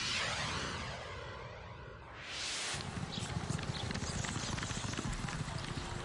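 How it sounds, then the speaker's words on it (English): Quarter horses gallop in a race at Ruidoso Downs racetrack, a dense rushing clatter of hooves with a whooshing pass-by, loud and continuous over a noisy crowd-like background. "As you can see, quarter horses race up to 40 miles per hour."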